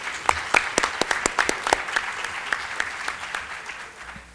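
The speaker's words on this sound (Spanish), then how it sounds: "Damos un fuerte aplauso" Light, scattered applause from a modest audience at a Colombian criminal procedure law panel, with distinct individual claps ringing out for a few seconds at moderate distance.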